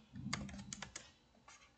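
Several quick keystrokes on a computer keyboard, close and fairly quiet, in short irregular bursts with a brief pause before a final pair of taps.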